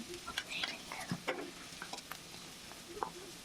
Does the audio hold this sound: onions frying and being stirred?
yes